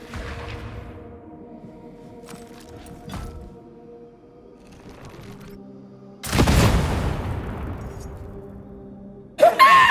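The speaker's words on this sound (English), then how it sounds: "Everyone's favorite Boom Bringer. Big rocket launcher." The Boom Bringer rocket launcher fires in the video game Darktide, a soft launch thump followed a few seconds later by a loud, roaring explosion, then a second sharp burst at the very end.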